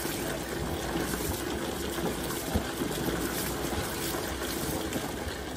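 Water pours steadily into the drum of an LG 18 kg washing machine, a continuous rushing trickle that holds even in level throughout with no voices.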